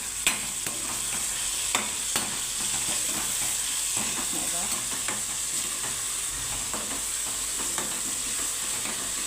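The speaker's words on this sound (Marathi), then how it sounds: "चांगलं तेलात परतून घ्यायचं हे" Steady sizzling of food sautéing in hot oil for moong dal khichdi, with scattered clicks and scrapes from stirring throughout.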